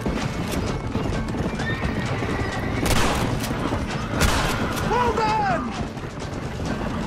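Horses gallop in the video game Red Dead Redemption with rapid clip-clop hoofbeats, one whinnying, over game ambience with bursts of gunfire.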